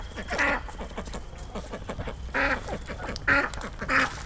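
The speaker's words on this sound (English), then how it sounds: "They're not liking each other. They are mad." Two female ducks keep fighting by a chicken coop in winter, letting out loud, harsh quacking calls in separate bursts spread across the moment, close and with no speech over them.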